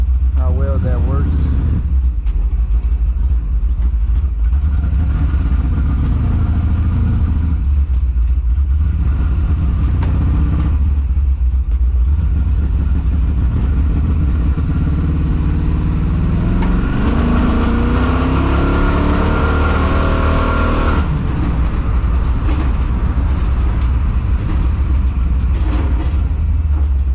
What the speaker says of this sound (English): Running like super rich, it's backfiring like crazy right now.